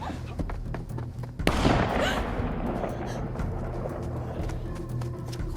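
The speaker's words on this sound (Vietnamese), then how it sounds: "có ai đó nổ súng bắn văng con vật đó" A single loud gunshot rings out in the horror video game The Quarry, a sharp burst followed by a lingering rumble over ongoing game ambience.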